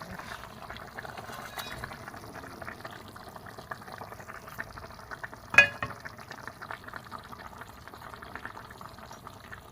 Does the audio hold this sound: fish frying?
yes